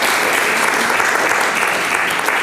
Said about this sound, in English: Yes, round of applause for Mark.